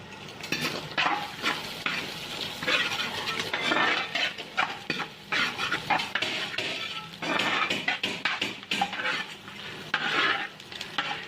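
Chopped onion, dried and green chili, cabbage, carrot and curry leaves sauté with egg in a hot pan for chicken kothu porotta, a steady loud sizzle broken by frequent clinking and scraping stirs, with no talk.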